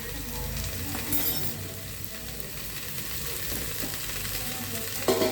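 Sweet potatoes fry and sizzle steadily in a pan while being stirred, a continuous close crackle with scraping stir noises and a louder clatter near the end, no voices.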